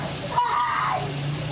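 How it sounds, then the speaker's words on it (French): A child, head and body suspended in a barrel, screams in distress: one short, strained cry rising midway through and then trailing off, fairly faint and heard alone. "La victime pousse des cris de détresse"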